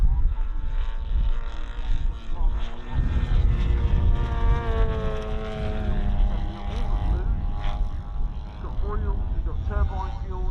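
At a model airshow, a model aircraft drones overhead with a wavering propeller tone that rises and falls as it passes, fairly close, with a commentator talking over it and some wind buffeting.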